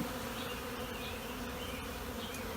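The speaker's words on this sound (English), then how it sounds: "bees are foraging from it" Honey bees hum in a dense, steady buzz around the listener while foraging on privet blossom, with a few louder passes over a continuous drone.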